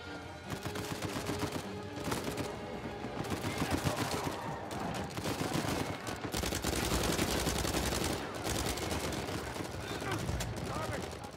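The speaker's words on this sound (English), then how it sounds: "Everything's exploding." Sustained gunfire and explosions from Uncharted 4 combat roar continuously, loud automatic bursts layered with heavy blasts and debris crashes, with a voice talking briefly beneath the chaos.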